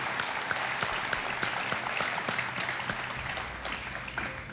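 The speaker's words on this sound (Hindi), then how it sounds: "बहुत बहुत तालियों के साथ इनका हम स्वागत करते हैं।" A studio audience on a televised quiz show applauds continuously, a dense, loud wash of many hands clapping together with no voices over it, holding steady for the whole stretch.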